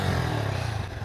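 A Yamaha MT 15 V2 BS7 motorcycle engine revs briefly, a close, loud throaty burst that eases off toward the end, no voices.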